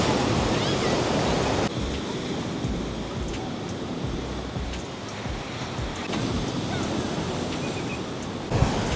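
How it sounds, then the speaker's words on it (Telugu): Ocean waves wash steadily onto Eden beach in Pondicherry, a continuous broadband surf roar with wind buffeting the microphone and a few brief swells in intensity. "ఇదే మొత్తం ఈడెన్ బీచ్ అనమాట."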